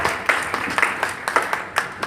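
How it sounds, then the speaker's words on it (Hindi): Audience applause at a Hindi poetry recital stage event, a loose patter of hand claps with a few sharper louder bursts, moderately near and steady over a couple of seconds. "इतना अच्छा सुनने वाले श्रोताओं के लिए मंच से तालियां चाहता हूँ।"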